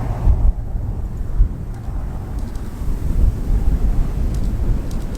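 Strong wind roaring from a nearby tornado during a storm chase in Oklahoma, a loud continuous low rumble buffeting the microphone with gusty surges, no voices.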